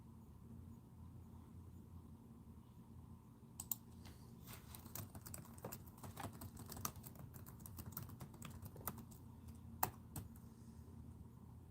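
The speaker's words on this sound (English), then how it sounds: "All right, back to typing my assignment." Typing on a computer keyboard, with soft irregular clicks and keystrokes, some a little louder, over a quiet room hum and starting a few seconds in.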